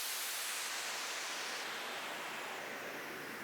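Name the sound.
white noise downlifter sound effect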